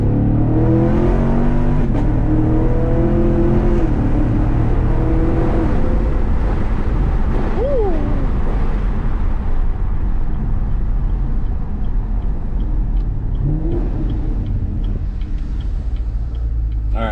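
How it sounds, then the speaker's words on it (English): A Chevrolet Camaro SS's deep exhaust rumble rises as it accelerates through the gears, loud and continuous, heard from inside the cabin with the windows partly down. "put down the windows a bit so you guys can hear the exhaust"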